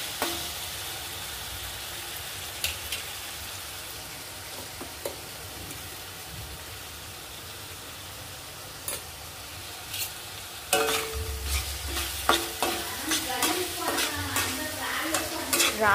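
A ginger, garlic and green chili paste fries in a pan for an egg curry, giving a continuous soft sizzle. It grows louder and busier partway through as stirring brings frequent scraping ticks against the pan.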